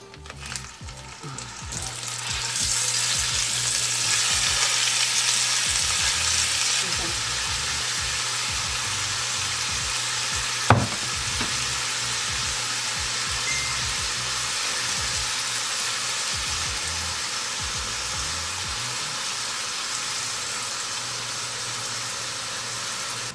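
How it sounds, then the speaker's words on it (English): Lean ground beef browns in leftover bacon fat in a pot, giving a steady, loud broadband sizzle that holds for the whole stretch, with one sharp clink of a utensil partway through. "I'm gonna use my bacon fat left over from this morning to start browning the meat."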